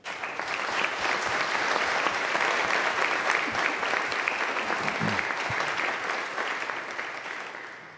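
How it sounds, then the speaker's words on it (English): Sustained applause from a graduation ceremony audience at a nurse anesthesia diploma and pinning event, dense steady clapping filling the hall for about eight seconds before tapering slightly at the end. "We do, though, wish to honor them with a round of applause"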